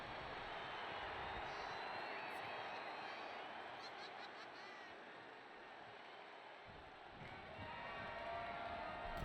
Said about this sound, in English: And the crowd are getting behind him a little bit here.